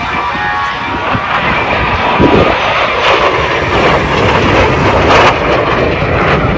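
Soviet military aircraft making a high-speed pass at the 2023 AERO Gatineau-Ottawa airshow, a loud, sustained broadband engine roar that stays strong and steady throughout, with no talk over it.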